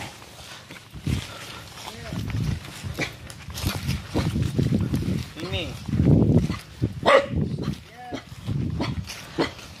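A dog barks repeatedly in short bursts, mixed with people talking nearby.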